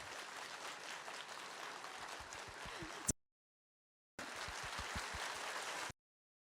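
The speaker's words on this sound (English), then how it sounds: "Let us, with the most respectful and warmest applause, welcome Khenpo Sodargye Rinpoche into the conference" A crowd in a conference hall applauds steadily to welcome a speaker, a dense wash of clapping that cuts off abruptly, pauses in silence, then resumes just as full before stopping again.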